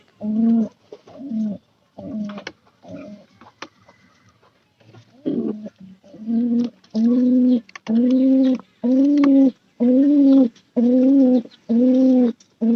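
A newly paired couple of pigeons cooing close by, a series of loud, regular rolling coos with short pauses between them, starting sparse and settling into a steady rhythm.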